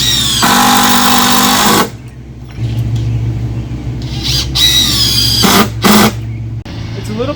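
A power drill drives screws into pool deck boards in two or three loud, close whirring bursts, with quieter outdoor background and a voice in between.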